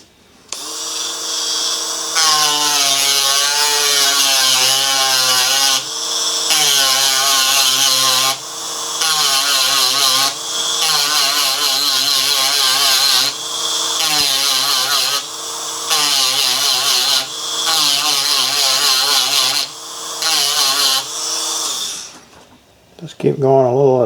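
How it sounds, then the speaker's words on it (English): A grinder works metal during an Onan CK fuel pump repair, a loud, whining grind in repeated bursts of several seconds with short pauses between, close by and steady throughout. "this thing still isn't ready to come off of there yet, so I'm going to grind a little more on that."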